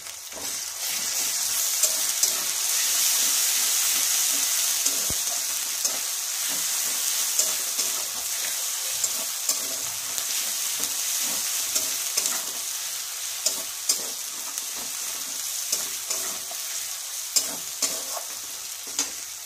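Ginger garlic paste sizzling in hot oil with browned onions for soyabean badi curry, a steady bright hiss with regular spoon scrapes and clinks against the pan, close and continuous, with no voices.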